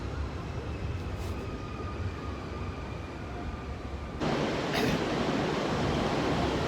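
Constant loud rumbling roar of a moving train in Japan, running alongside a river, a steady wash of rail noise that grows louder partway through.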